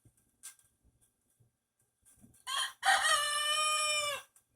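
Young Americana rooster crowing once, a close, loud, strained crow rising after a few short preliminary sounds and ending abruptly in a quiet setting.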